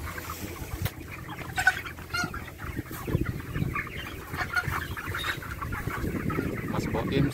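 Chickens cluck steadily in a sultan-style chicken coop, many birds calling together at close range, with soft background noise and occasional clatter.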